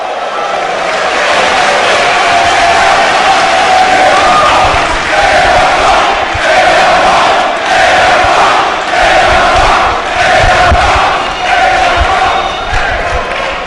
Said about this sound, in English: AR Fox, as he always does, electrifies this crowd here in New Orleans. Taking no time to get this crowd on their feet. Chanting AR Fox